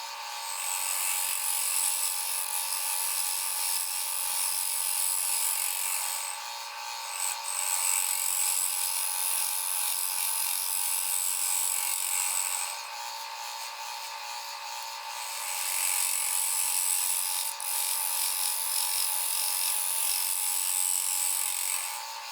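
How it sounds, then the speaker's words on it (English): A hand scraper working over a turned elm bowl, a repeated rasping scrape in long strokes with brief pauses between them, fairly close and without talk. "So now we're going to take a scraper and we're going to clean this up a little bit."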